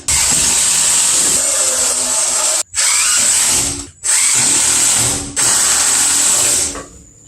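A power drill or driver whines through four long bursts, driving screws into plywood roof board on a storage shed, each run cutting off sharply with brief pauses between, loud and close.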